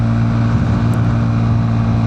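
A Honda CB 125 Hornet motorcycle climbs uphill in gear on a Ladakh mountain road, making a steady, close, low engine drone with no pauses and no voices.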